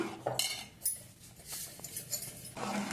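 A spoon scrapes and clinks against a pot while a thick millet (sajja) mixture is stirred, in short uneven strokes close up.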